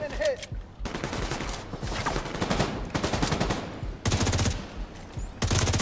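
M4 rifle fire in The Division 2 at the Invaded Potomac Event Center, coming in repeated bursts of rapid shots with short pauses between them, loud and close, mixed with game noise and no talk.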